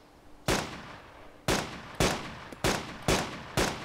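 Single gunshots ring out in the video game DayZ, six sharp cracks at uneven intervals of about half a second to a second, each with a short decaying tail, loud and with no talk.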